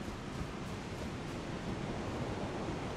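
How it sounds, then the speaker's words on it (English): Steady rushing roar of a waterfall of rot in the video game Elden Ring, a continuous broadband wash of falling liquid without voices. "A fucking waterfall of rot."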